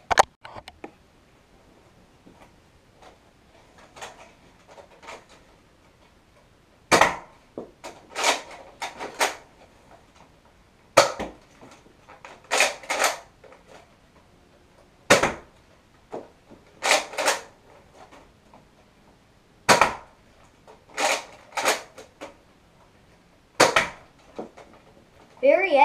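Nerf Retaliator toy blaster firing foam darts, heard as about a dozen sharp, separate pops and clacks spaced a second or two apart, with quiet room sound between shots.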